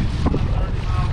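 Wind gusting across a lake during a bass fishing trip from a paddled boat, a loud continuous low roar buffeting the microphone throughout, with a brief voice-like sound partway through.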